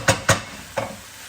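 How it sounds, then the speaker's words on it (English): Soy, oyster and fish sauces hit a hot pan with three short, close sizzling bursts, the last one softer, then the pan quietly hisses. "So now I'm going to add the sauce"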